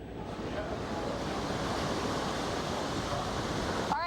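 Strong, roaring hurricane wind in the eyewall of Hurricane Laura blasts continuously as dense noise, loud and unbroken, buffeting close to the microphone throughout.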